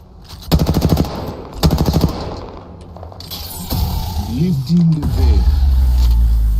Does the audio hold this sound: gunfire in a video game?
yes